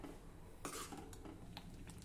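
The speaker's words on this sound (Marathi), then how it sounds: "आता मध्यम ते मोठ्या आचेवर आपल्याला हे पिठलं सतत ढवळत शिजवायचं आहे।" A spoon scraping and clinking against a pan while thick besan pitla cooks over medium-high heat, a few short metallic knocks and scrapes over a quiet background, close and fairly soft.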